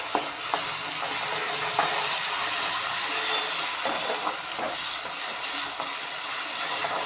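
Ginger garlic paste frying in a pan: a steady, fairly loud sizzle with faint scraping of stirring through it, continuous and without talk.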